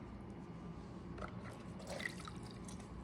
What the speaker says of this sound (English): I'm gonna just take a sponge and some water